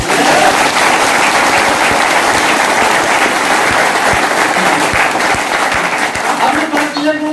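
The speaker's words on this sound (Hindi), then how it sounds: "तो इसमें जोरदार तालियां बजनी चाहिए" Loud, dense applause from a seminar audience, close and continuous, with a voice breaking in near the end as the clapping thins.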